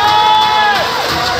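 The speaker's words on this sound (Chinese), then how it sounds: "需要点尖叫声跟掌声的" An audience at a rural winery cocktail competition roars, cheers and whoops loudly and continuously, with high shouts and a whistle-like tone cutting through the crowd noise.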